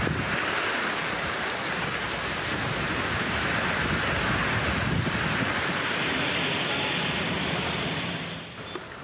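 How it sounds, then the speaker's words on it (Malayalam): Heavy monsoon rain with wind in Kerala drums down in a dense, loud, unbroken roar that continues throughout and fades slightly at the very end. "ചെറിയ ഇടവേളയ്ക്ക് ശേഷം സംസ്ഥാനത്ത് മഴ വീണ്ടും ശക്തമാവുകയാണ്."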